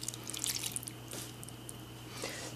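Milk and vegetable oil pour into biscuit batter in a bowl, a faint liquid trickle with scattered drips and splashes, strongest early and again near the end, with no talking.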